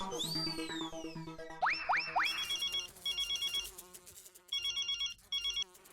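A telephone rings out on an outgoing call, with bright electronic ring tones, a few rising boing-like chirps, then repeated pulsed ringing bursts separated by short gaps, fairly quiet and with no talking.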